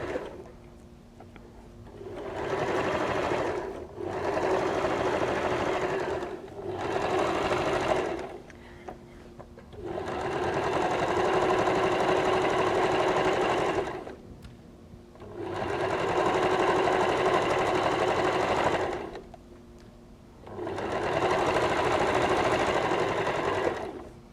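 A sewing machine runs a 4mm zigzag stitch along a fabric edge to overlock it, sounding in six steady whirring bursts of a few seconds each, separated by short pauses, close and fairly loud.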